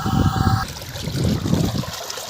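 A 900W BLDC motor submerged and pumping water, heard as a churning, gurgling splash of flowing water with a faint high whine at the start, close and steady.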